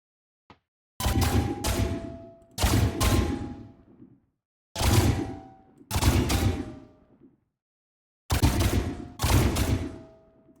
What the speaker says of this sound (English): So here we have our rifle